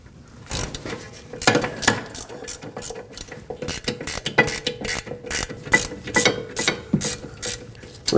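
A ratchet clicks rapidly in uneven bursts while an 18mm socket backs out the rear brake caliper bracket mounting bolts on a 2014-2019 Cadillac CTS, with close, crisp pawl ticks and short pauses.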